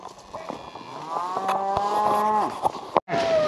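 Cattle on a farm lowing, one long, loud, close moo that bends in pitch, followed by a brief rustle and a second call starting.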